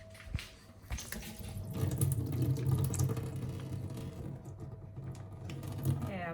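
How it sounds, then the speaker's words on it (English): Liquid from a packet of mozzarella poured out into a sink, giving a steady trickling, splashing flow over a low kitchen hum before a pizza is made. "So I'm just going to cut a little hole in the corner and pour out the juice that the mozzarella"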